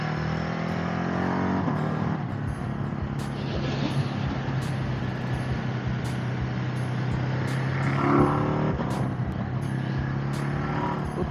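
Riding a Ducati 950 Hypermotard, heard from the saddle: a close, steady engine drone, with a shift early on and a short rise in revs later.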